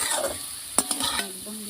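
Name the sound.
potatoes frying in a pan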